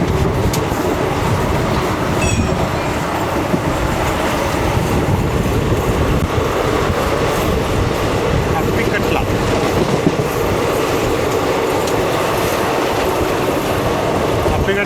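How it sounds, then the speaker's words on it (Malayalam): Inside a moving ICF three-tier coach of the Tirupati Sainagar Shirdi Express, a loud, steady rumble of wheels carries faint clickety-clack and occasional squeals, with murmured talk in the background. "തിരുപ്പതി സൈനഗർ ഷിർഡി എക്സ്പ്രസ് ആയിരുന്നു അത്."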